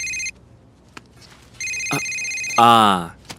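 A phone ringtone chimes in repeated bursts with short gaps, loud and close, before a voice cuts in near the end.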